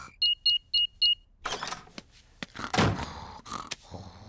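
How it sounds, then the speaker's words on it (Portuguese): Cartoon alarm being switched on in the Peppa Pig animated series: four short high electronic beeps in quick succession, followed by clicks, clunks and rustling. "Eu só vou ligar o alarme."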